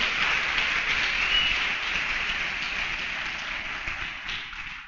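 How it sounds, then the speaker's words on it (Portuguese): Church congregation applauding the Lord during a Portuguese sermon, a dense steady wash of clapping that fills the space for several seconds and eases slightly toward the end. "Aplauda ele, o Senhor"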